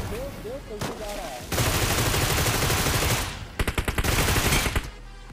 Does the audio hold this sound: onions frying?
no